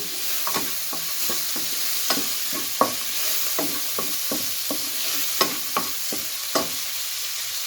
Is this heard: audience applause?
no